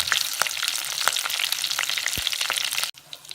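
Fenugreek, curry leaves and green chillies fry in hot oil with a dense, crackling sizzle and scattered sharp pops, steady and close, then cut off abruptly near the end.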